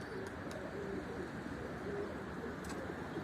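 Soft pigeon coos repeat at intervals over a steady outdoor hum, with a few faint higher chirps, the birds sounding fairly close.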